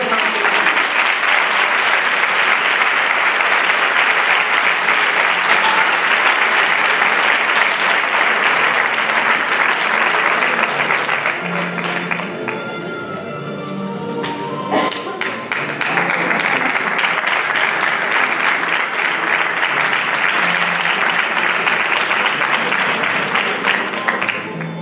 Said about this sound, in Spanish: Un fuerte aplauso a Don Matías